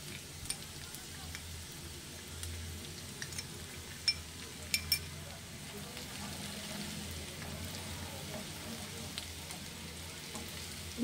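A spice paste of chilli powder and turmeric fries in oil for Bengali perch fish curry, a continuous crackling sizzle like light rain with a few sharp clinks of a utensil against the pan.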